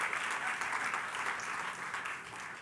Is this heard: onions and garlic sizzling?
no